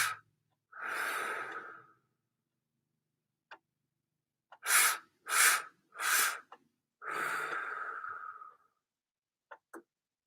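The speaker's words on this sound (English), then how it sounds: "inhale a couple of times as if you were inhaling through a straw and then breathing out slowly" Several breaths drawn in sharply through pursed lips as if through a straw, a few quick ones in a row, followed by long slow exhales and a couple of faint clicks.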